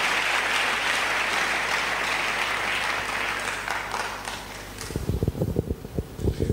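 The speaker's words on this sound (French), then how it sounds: "Clap for David. Applaudissez pour David." A conference audience at an international church-growth gathering applauds for a long spell over a low hum; the sustained clapping fades, then a few closer, sharper claps come through at the end.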